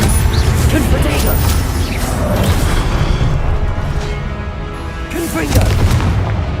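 A Confringo fiery blast spell in Hogwarts Legacy, dense rumbling booms and blasts over a constant loud game soundscape, with voices of spell casting heard through it.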